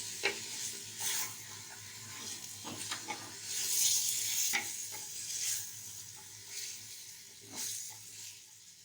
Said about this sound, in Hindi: अच्छे से चलाएंगे ताकि हमारे मसाले जो हमने अभी डाले सही से